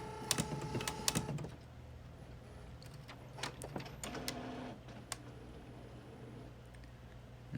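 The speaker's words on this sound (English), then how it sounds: "you just turn on the" An Epson Workforce Pro WF-4830 printer powering on gives a series of mechanical clicks, ticks and brief whirring motor runs, fairly quiet, alone in a still room.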